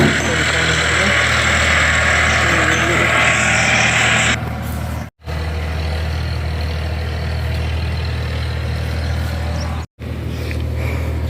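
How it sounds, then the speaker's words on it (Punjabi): A tractor engine idles with a steady low rumble, running continuously behind a wash of background noise, briefly cutting out twice. "ਉੱਥੇ ਟਰੈਕਟਰ ਚੱਲਦਾ ਨਾ ਬਾਹਰ ਆਵਾਜ਼"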